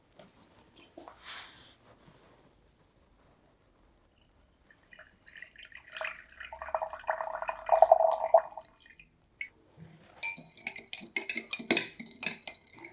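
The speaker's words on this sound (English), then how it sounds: "You just keep stirring till all the powder is dissolved into the liquid." A spoon stirs powder into water in cups, producing scattered light clinks and scraping taps against the cup walls in intermittent bursts, close and fairly quiet with pauses between.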